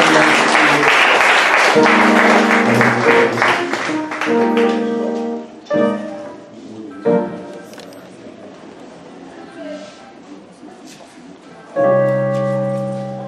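A church congregation at a Bible institute graduation service claps and cheers in praise, loud applause with shouts and voices mixed in, fading in waves and then swelling again.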